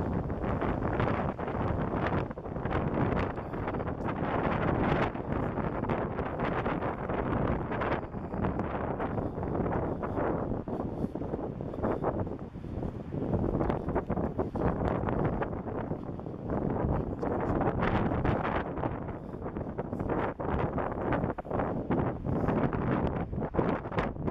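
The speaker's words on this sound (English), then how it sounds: "It's really windy right now." Strong wind on a street in Moscow, Russia buffets the microphone in continuous roaring gusts, loud and rough throughout, with brief lulls before surging again.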